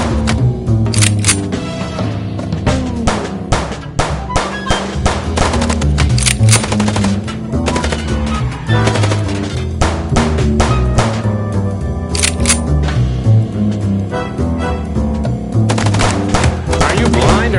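Rapid bursts of gunfire in the Chicken Police video game, loud and close, with repeated machine-gun rattles and sharp single shots in clusters over a steady engine-like drone.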